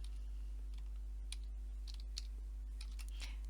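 Keys tapping on a computer keyboard while an attribute name is entered in AB Suite software: a few scattered, faint clicks over a steady low hum, with no talking.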